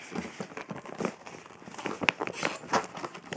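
Plastic packaging crinkles and rustles in bursts while a stationery kit is unboxed, close and fairly soft, with irregular crackly handling sounds and no speech.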